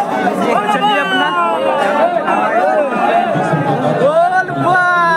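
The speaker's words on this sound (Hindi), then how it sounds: "देख लीजिए भीड़ बहुत अधिक है अभी तक" A large crowd chatters while waiting in a queue, with many overlapping voices forming a steady, close hubbub that carries on without a break.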